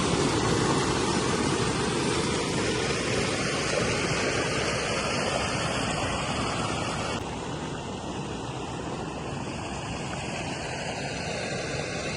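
A waterfall roars in a steady, loud, broadband rush of falling water that holds unbroken for the whole stretch, close by and with no voices over it.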